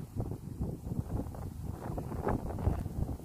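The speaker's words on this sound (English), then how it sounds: "Bit windy today, guys." Gusty wind on a foggy morning in Melbourne, Victoria, rumbles faintly and unevenly across the microphone in soft, fluttering bursts.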